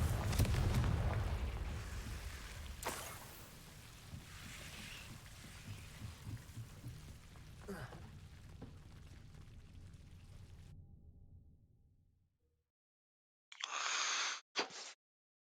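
The Confringo blasting spell explodes in Hogwarts Legacy with a deep, loud boom at the start that fades into a long rumbling tail, then near silence, followed later by a brief bright tonal sound.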